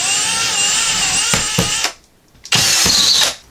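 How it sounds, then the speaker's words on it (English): A power drill bores into a wall to find a stud with a loud whining motor. Two long runs of drilling are split by a short pause, with crunching bites into the material as the bit pushes through. "we found out that there's a stud here by drilling into the wall"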